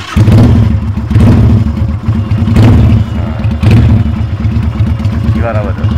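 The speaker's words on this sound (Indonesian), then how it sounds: "Kalian saya tunjukin pada kalian juga ya suara knalpotnya ketika dibawa riding nih" A Kaisar Ruby 250 custom bobber motorcycle's exhaust rumbles loudly while being ridden, a deep throbbing engine note that swells and eases with throttle, close and continuous with wind noise.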